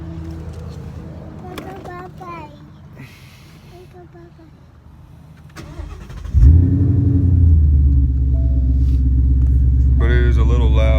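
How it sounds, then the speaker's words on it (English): Car exhaust fitted with an off-road X-pipe and Flowmaster axle-backs: a low rumble that jumps up loudly as the engine revs, then holds a deep, steady drone, with a person talking over the quieter start. "Mine, as I've already seen because I looked at it a little bit, has a off-road X-pipe and Flowmaster axle backs"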